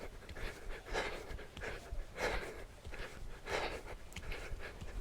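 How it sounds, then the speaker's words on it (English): Heavy, rhythmic panting from someone doing a no-equipment HIIT workout, with deep breaths surging about once a second, close to the mic and with no talking. "You can probably hear me breathing here."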